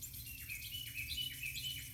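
Birds chirp and sing in repeated short calls near water, with a steady low wash of background noise underneath, fairly faint and continuous with no voices.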